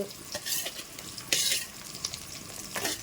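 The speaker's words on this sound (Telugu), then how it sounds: "ఇవి ఒకసారి మంచిగా ఫ్రై చేసుకోవాలి" Carrots, beans and tomatoes frying in a pan for veg pulao, with close sizzling and the repeated scrape and clink of a spoon stirring against the pan, and no talking.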